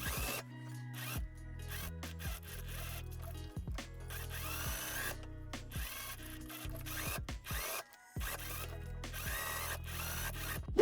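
A sewing machine stitching a dress pocket seam for an Edwardian-inspired winter dress, its motor whirring in repeated start-stop bursts of stitching, close and fairly quiet, with no talking.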